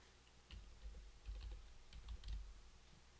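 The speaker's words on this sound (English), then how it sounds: "I'm not too good at typing." Keys clatter on a computer keyboard in quick, irregular bursts of typing, quiet and close, with no talking.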